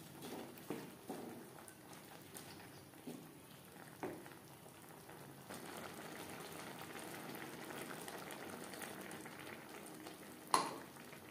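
Cauliflower stem curry bubbling in a pan, a soft steady simmer with gentle popping and a few faint clinks near the start and end, quiet and close, with no voices.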